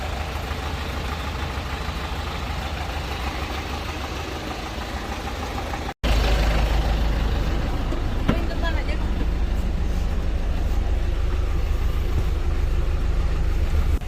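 A bus engine idles before departure on a route toward Gilimanuk, Bali, as a steady low rumble under a broad wash of noise, briefly cut near the middle.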